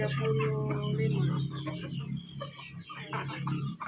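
Several chickens, a flock of hens and chicks, cluck and squawk nearby, with one drawn-out call early on and busy overlapping clucks throughout.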